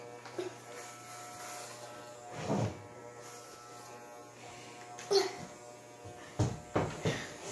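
Electric hair clippers buzz steadily during a home haircut, a close, constant drone with brief louder bursts as they move through the hair, while people talk now and then.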